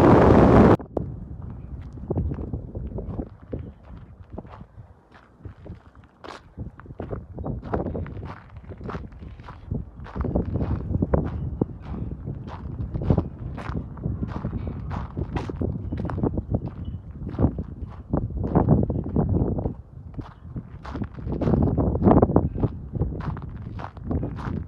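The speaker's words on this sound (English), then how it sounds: "It's so windy, I'm not sure if you're going to be able to hear me." Strong outdoor wind buffets the microphone in heavy, irregular gusts at the shore beside a WWII submarine museum, with scuffing footsteps on snow and sand. The noise is loud and close, and no one speaks.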